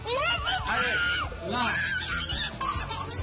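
Several young children from a family of four kids screaming shrilly at home, high piercing cries overlapping continuously and loudly, with chaotic voices mixed in.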